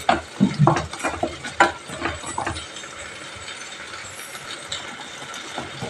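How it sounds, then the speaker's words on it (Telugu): Turmeric, garam masala and salt frying in a pan for Andhra-style fish curry masala, with a burst of scraping spoon stirs at first, then settling into a soft steady sizzle. "ఇది బాగా ఫ్రై అవ్వాలి"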